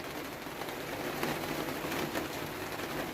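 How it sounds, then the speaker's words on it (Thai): Heavy rain from a storm pours down steadily, a dense, even hiss of drops on surfaces filling the whole stretch, with no voices heard. "ฝนตกพี่น้อง ฝนตกพายุเข่ามานี่ตกหนักเลยว่าสัน"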